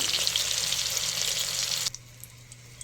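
Loud, dense sizzle of eggs frying in a pan, holding steady and then cutting off abruptly to a faint low hum with a few small clicks.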